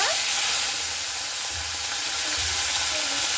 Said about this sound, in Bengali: মাছটা কিন্তু এবার আমি ভেজে নেব